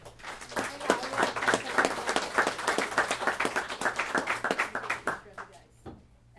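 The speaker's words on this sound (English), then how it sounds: "Everybody give a round of applause, please." Applause at a Kermit, Texas city council meeting: a small room of hands clapping steadily and fairly close for about five seconds before fading out, with a few voices talking underneath.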